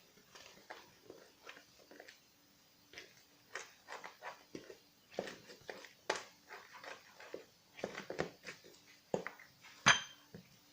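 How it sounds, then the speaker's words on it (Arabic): A spoon stirs pizza dough mixture with a little oil in a bowl, giving close, repeated clinks and scrapes in an uneven rhythm with short pauses between strokes. "وكنبداو نحركوا الخليط ديالنا"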